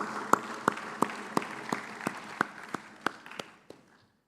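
Conference audience at an Africa tech summit applauding sponsors: a wash of crowd clapping with one sharp, evenly spaced clap standing out roughly three times a second, fading out after about four seconds.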